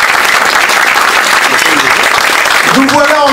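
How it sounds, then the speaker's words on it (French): Loud, dense audience applause fills the room without a break, with crowd noise and a voice rising over the clapping toward the end. "je crois qu'on peut l'applaudir extrêmement fort pour son courage et sa dignité"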